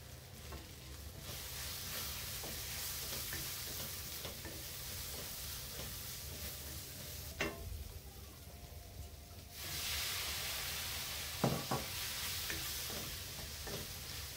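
Spices and drumsticks sautéed in a pan give a steady, close sizzle with occasional stirring scrapes and ticks, and the hiss swells louder near the end.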